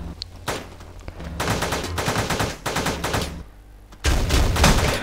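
Gunfire in the video game Teleglitch, loud rapid bursts of automatic shots in several stretches with short pauses between, close and punchy, with no talk over it.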